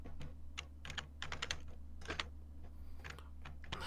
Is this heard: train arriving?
no